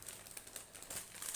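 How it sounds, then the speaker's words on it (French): Baking paper peeled off a rolled cocoa sponge cake, upturned on a kitchen towel, giving soft, close crinkling and crackling rustles through a quiet kitchen. "J'enlève le papier cuisson"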